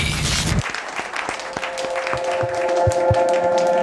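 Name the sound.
audience applause at a training event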